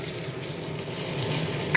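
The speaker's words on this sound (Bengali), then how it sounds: "একটু কালো জিরে ফোড়ন দেব অল্পই দেবো খুব সামান্য দেব" Nigella seeds sizzling as tempering in hot oil for a koi fish curry with turnip, a close, continuous crackling fry at even loudness with no talk.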